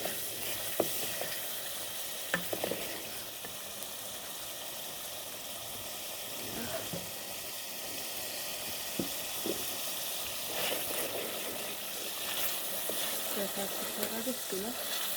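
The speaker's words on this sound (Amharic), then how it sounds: "በርበሬያችንን ድል በርበሬያችንን እንደዚህ ጨምረን እናቅላላለን" Ground berbere spice stirred and sautéed in a frying pan over lowered heat, a steady soft sizzle with occasional scraping clicks of the spoon, close and continuous throughout.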